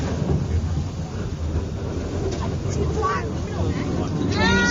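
A Halloween train at the BC Forest Discovery Centre rumbles slowly along the tracks at night with a steady low roar and faint rhythmic clatter, plus a few squealing metallic tones near the end.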